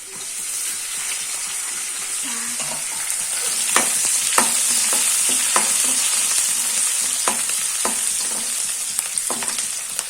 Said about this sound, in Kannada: ಸ್ವಲ್ಪ ಕಾದ ನಂತರ ಬೆಳ್ಳುಳ್ಳಿ ಪೀಸ್ ಮಾಡಿದ್ದನ್ನು ಹಾಕೊಳ್ಳಿ.